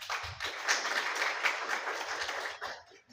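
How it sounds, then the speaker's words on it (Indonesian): An audience at a Halal Bihalal gathering of Universitas Diponegoro's graduate school breaks into applause, a dense, fairly loud wash of clapping that holds steady for about three seconds before fading out. "kasihkan tepuk tangan buat beliau"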